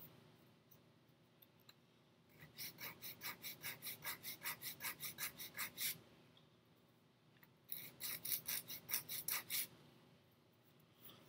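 Model rocket fins are sanded smooth in two runs of rapid, even rasping strokes, close and fairly quiet, with a pause between runs and no talk.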